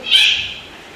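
A kitten gives one short, high-pitched meow, close and fairly loud, that quickly fades into a quiet room.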